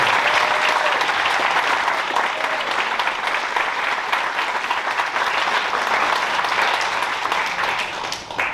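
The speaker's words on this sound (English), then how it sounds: "Let's give everybody that has gotten an award tonight one more big round of applause." A full audience at an honor graduation ceremony gives a long, steady round of applause, loud and continuous with a faint murmur of voices, easing slightly at the very end.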